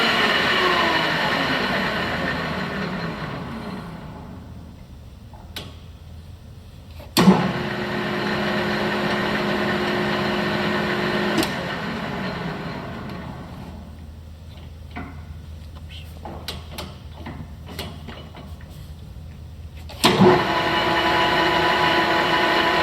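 Nardini 17 x 40 engine lathe with an 8-1/2 HP motor running and shifting through its headstock speed ranges: a steady mechanical hum and whine that changes pitch at each shift, with sharp clunks as gears engage and no speech.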